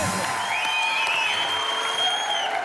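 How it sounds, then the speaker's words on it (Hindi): Steady, dense applause from a live studio audience at a Hindi comedy show, mixed with whistles and whoops and holding at an even level throughout. "जोरदार तालियां एक बार"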